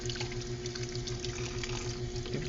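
Running tap water in a laboratory sink while something is washed, a steady close rushing stream with continuous splashing and no speech.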